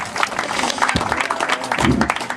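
An outdoor audience claps at a bike trials show, a short burst of scattered, fairly close applause.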